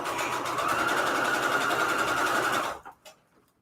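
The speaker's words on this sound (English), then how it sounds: "So I'm using a straight stitch on the default settings, so you want a really small straight stitch." A sewing machine runs a small straight stitch on default settings while piecing Christmas string-quilt patchwork, giving a steady, close mechanical whir for nearly three seconds before it stops, leaving a few faint clicks.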